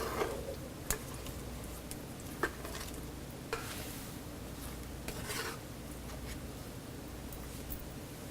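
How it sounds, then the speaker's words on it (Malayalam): A spoon stirs fish pachacurry after salt goes into the pan. The sound is quiet, with a low simmering hiss and a few sharp taps of the spoon against the pan at intervals. "ഇനി ആവശ്യത്തിന് ഉപ്പിട്ട ശേഷം എല്ലാം കൂടി ശരിക്കും ഇളക്കി യോജിപ്പിക്കുക."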